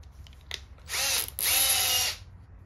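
A power drill fitted with a piece of hose whirs in two short bursts, close and loud, separated by a brief pause, with a couple of faint clicks before, during a Renault Twingo cylinder head rebuild.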